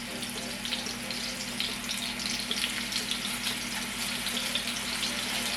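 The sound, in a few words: ground chicken spinach burger frying in pan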